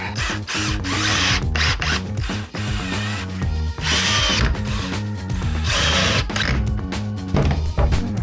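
A power drill drives big screws into live edge wood, whirring loudly and almost continuously in close, repeated bursts with brief pauses between them.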